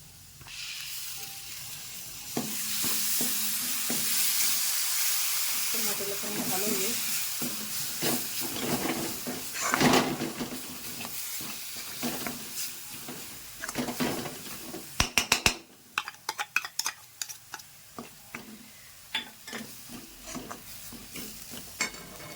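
Tomatoes tipped into a hot pan of spices for dhaba-style paneer masala, loud steady sizzling and frying hiss with stirring scrapes, then sharper clicks and clatter of a spoon against the pan near the end.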